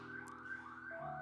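An electronic alarm goes off during a church service, a steady sustained tone that shifts pitch partway through and sounds faint and distant.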